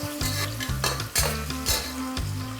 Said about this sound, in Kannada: ಆನಿಯನ್ ಈಗ ಸ್ವಲ್ಪ ಫ್ರೈ ಮಾಡ್ಕೋಬೇಕು.